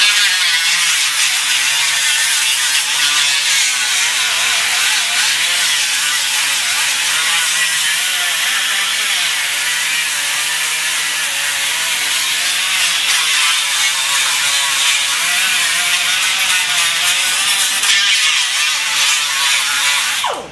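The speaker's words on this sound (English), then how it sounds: "I'll grind it and show you what it looks like finished ground." A grinder works continuously over welds on the C-pillar roof skin of a 1997 Toyota Corolla, giving a loud, harsh, unbroken metallic whine close by for the full stretch.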